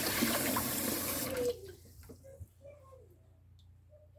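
Hot tap water runs in a steady, loud splashing stream into a kitchen sink while cast iron dishes are washed, then cuts off after about a second and a half, leaving quiet clinks and drips.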